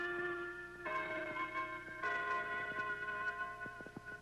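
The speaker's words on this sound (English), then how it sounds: "I'll never think of the Westminster chimes without thinking of this scene" Westminster chimes ring out from a very modern clock tower in a film, a sustained sequence of resonant bell tones with overlapping decays, moderately quiet, followed by a few sharp knocks near the end.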